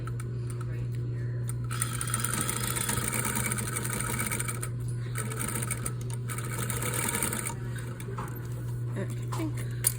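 A sewing machine stitches a double welt pocket in bursts of fast rapid whirring that stop and restart several times, with a steady low motor hum throughout and quiet talking in the background.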